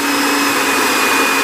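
A Philips blender motor whirs loudly and steadily at close range, a dense high-pitched hum with faint whine tones throughout.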